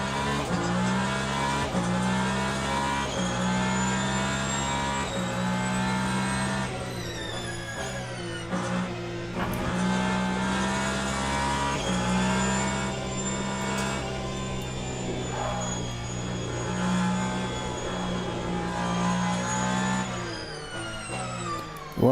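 Prototype race car engine in the Le Mans Ultimate racing game, droning steadily at high revs with shifting pitch through gear changes and brief dips, a continuous loud cockpit-perspective roar for over twenty seconds.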